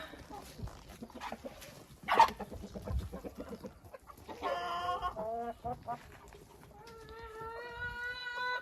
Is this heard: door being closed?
no